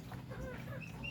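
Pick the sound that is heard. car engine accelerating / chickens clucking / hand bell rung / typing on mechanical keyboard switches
chickens clucking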